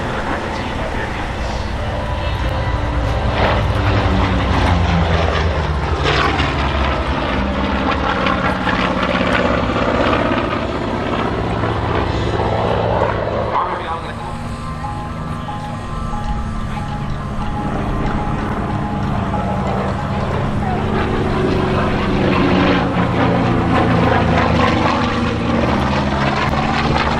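A Corsair propeller fighter flies over at an airshow, its engine roar droning loud and continuous with shifting pitch as it passes, while an announcer talks over it.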